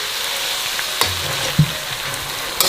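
Soy sauce goes into a pan of pig trotters frying in oil for Cantonese sand-ginger trotters, giving a close, steady sizzle with a few small pops and spatters and no talking.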